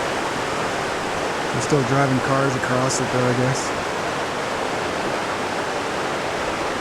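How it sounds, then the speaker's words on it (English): Rushing flash-flood water of the Poudre River in a Colorado mountain canyon, a loud, steady broadband roar that fills the whole clip, with someone briefly talking over it partway through. "All that flash flooding."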